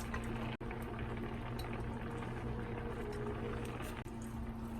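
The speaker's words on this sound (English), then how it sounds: "With tteokbokki, the longer you boil, it's got deeper taste." Tteokbokki, spicy rice cakes with fish cake and onions, boils steadily in a pot with a soft, continuous bubbling and a faint hum, close and quiet, broken by two brief clicks.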